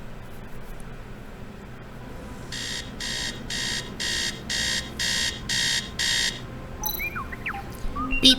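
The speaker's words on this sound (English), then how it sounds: "Beep, beep, beep." An alarm in the video game Tales of the Neon Sea beeps in a steady run of about eight loud, evenly spaced electronic pulses over a continuous background hum, followed by brief chirping tones.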